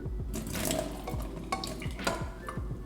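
A little water is poured while making coffee, a soft splashing and trickling close by with light clinks and stirring sounds, no voices.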